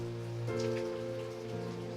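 Steady rain falls outdoors, a continuous hiss of drops spread across the whole clip with a low, sustained ambient tone beneath it and no voices.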